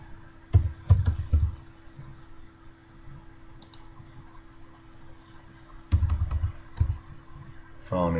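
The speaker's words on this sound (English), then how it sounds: "So if we go and type in HVACR Training Center," Someone types a file name on a computer keyboard, two quick clusters of close, crisp key clicks separated by a quieter pause.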